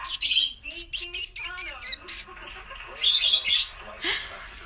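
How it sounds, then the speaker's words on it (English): Pet birds indoors give two loud, harsh squawking bursts with rapid chirps and calls in between, close to the listener. "Oh my God, my birds are going crazy."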